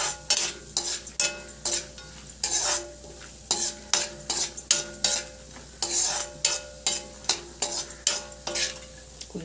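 Ingredients fry in a pan for basmati rice payasam while a spoon stirs them: a soft sizzle beneath a regular rhythm of scraping strokes against the pan, close up and without speech.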